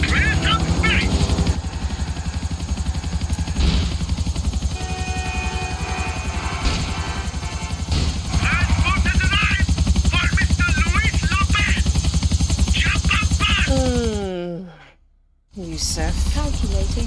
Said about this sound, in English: Get in Yusuf's chopper.